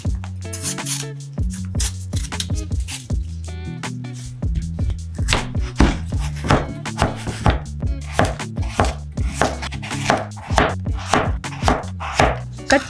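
A knife chops potatoes into big cubes on a board for Lebanese spicy potatoes, with steady, close, rapid chopping strikes running throughout over a low musical background.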